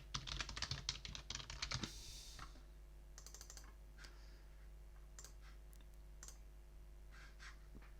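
Fingers type quickly on a computer keyboard, a dense burst of clicky keystrokes at first, then slower scattered clicks and taps over a low steady hum, quiet and close.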